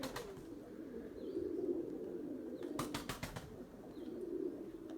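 Erzurum White pigeons coo softly in a low, rolling murmur, broken by a brief burst of wing flapping midway.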